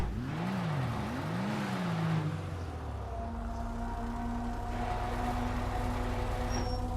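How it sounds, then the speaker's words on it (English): A Vulcar Nebula Turbo sports car in GTA 5 Online revs with swooping rises and falls, then settles into a steady droning engine note as it pulls away, loud and continuous. "Oh, that engine sounds awesome too."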